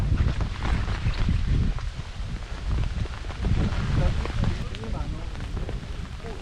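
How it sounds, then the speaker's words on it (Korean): Wind gusts buffet the microphone on a rainy mountain trail through an old royal azalea tunnel on Yeoninsan, a continuous low rumbling roar with heavy rain that swells and eases throughout. "바람이 불고 있습니다."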